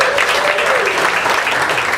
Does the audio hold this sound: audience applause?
yes